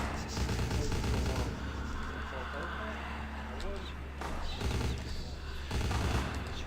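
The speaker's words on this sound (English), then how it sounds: "Do you not hear the gunshots that's going on right now?" Gunfire inside the video game Vampire: The Masquerade – Bloodlines, bursts of rapid shots and booms rolling through a combat zone, fairly loud and repeated in clusters, with a voice talking over parts of it.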